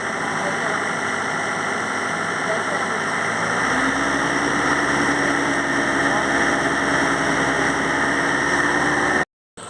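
A car engine is revved hard during an engine carbon cleaning, a loud steady roar with rising pitch that holds for several seconds, while voices call out over it before it cuts off at the end.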